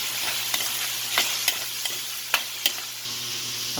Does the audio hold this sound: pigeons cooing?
no